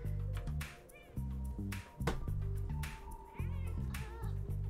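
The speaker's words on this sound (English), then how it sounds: "Let me see if I can get her meow for you." A cat meows repeatedly, up close indoors, with several drawn-out, wavering meows spread across a few seconds over steady background music.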